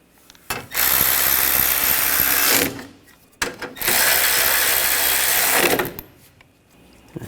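A ratchet snugs down bolts on the AC condenser of a Buick Encore, two close bursts of rapid clicking, each about two seconds long, with short pauses around them and no talk.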